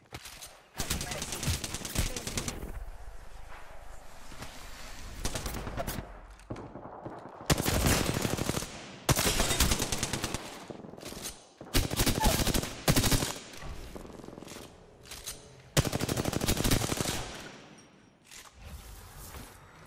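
Video game gunfire comes in loud bursts of rapid automatic shots with pauses between them, dense and close, with some booming hits mixed in.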